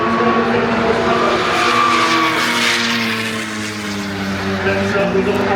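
A 250 horsepower race car driving at Japfest Silverstone: a loud, sustained engine roar with strong layered harmonics that shifts slightly in pitch as it passes. A voice talks over it.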